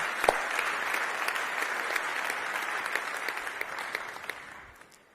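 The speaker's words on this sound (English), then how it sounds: "So please, a huge applause to all this panel," Audience applause for a panel of young people and heads of state at a UNESCO discussion on reinventing learning, a steady, dense clapping that carries evenly for about five seconds and then fades out at the end.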